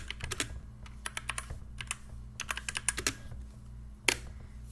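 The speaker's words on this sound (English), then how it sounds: "I'm just gonna type some random stuff." Fast typing on a DIERYA 63% gaming keyboard, crisp close-up key clicks in irregular bursts and runs, with a louder clack near the end and no talking.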